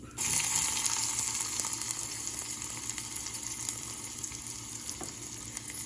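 Onions hit hot oil with mustard seeds and cumin in a frying pan while making upma, bursting into a loud, steady sizzle that holds then eases slightly.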